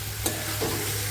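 Green chilies and spices frying in oil for a pepper chicken gravy, a short burst of continuous sizzling with a brief stir scrape near the start, close and fairly loud.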